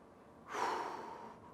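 One audible breath, a long airy exhale close to the microphone, comes during an upper body stretching routine and fades out over about a second.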